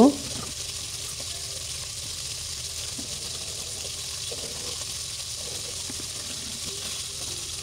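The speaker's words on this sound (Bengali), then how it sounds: "একটু সুন্দর করে হালকা লাল লাল করে ভেজে নিব" Chicken pieces frying in oil until lightly browned, a continuous soft sizzle with occasional faint clinks and stirs, steady and close from start to finish.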